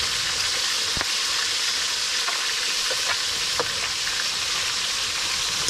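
Fish frying in a pan during a spearfishing outing, a steady close sizzle and hiss with occasional sharp pops and crackles, no voices.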